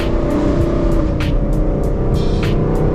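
A rebuilt Gen 2 Mustang engine, loud and close with a steady rumbling drone, sharp bursts cutting through at intervals.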